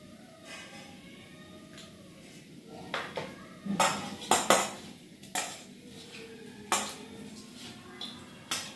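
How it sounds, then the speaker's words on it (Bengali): A knife cuts pointed gourd (potol) on a board in a home kitchen, giving a run of sharp, close taps and clicks that come in uneven bursts, with faint clatter of utensils and no talking. "পটলটা কেটে নিই"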